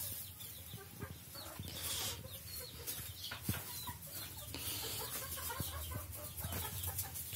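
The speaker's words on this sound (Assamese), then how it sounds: "3-4টা কুকুৰা কণী দি আছে" Local chickens on a small farm cluck in short, scattered calls at close range over a constant rustling background, with no talk.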